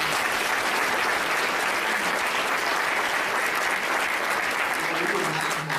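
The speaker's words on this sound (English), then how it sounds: "another round of applause for our members." Steady, dense audience applause at a Tomah High School community gathering, a continuous wash of many hands clapping for the full length with no pauses.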